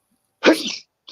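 A single sharp sneeze, close and loud, followed by a short pause and the start of another faint breathy sound.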